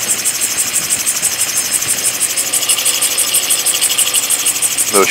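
An engine runs steadily just after being started, a close, even, vibrating drone with a rhythmic pulsing texture and a short squeal near the end.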